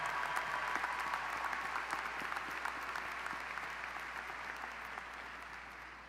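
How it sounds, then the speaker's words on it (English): A large audience at a 2024 high school graduation in Blue Springs gives sustained applause, dense and even, holding steady and easing slightly toward the end. "Let's give Emmeline a huge round of applause."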